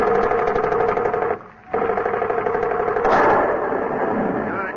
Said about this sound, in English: Your only chance is to shoot it down.